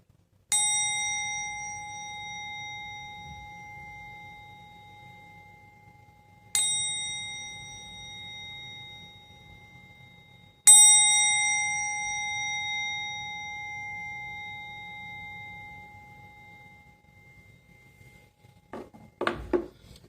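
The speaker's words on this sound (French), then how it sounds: "je vais commencer par purifier les énergies ambiantes avec mon gong" Three separate ringing metal strikes spaced several seconds apart, each sharp onset followed by a long, slowly fading tone, with a low background hum and a brief rustle at the end; a gong used to clear the room's energy.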